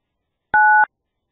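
A single two-tone telephone keypad beep, entering an extension in an automated phone menu on a FreeSWITCH PBX system. It is short, clear and steady, with silence before and after.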